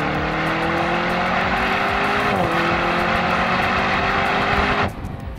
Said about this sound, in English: they actually removed some of the sound insulation so you can hear the engine even more